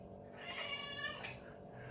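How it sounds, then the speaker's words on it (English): A pet cat meows loudly and insistently at close range, its drawn-out, wavering cries running straight through with no talking over it. "she's meowing like a good one"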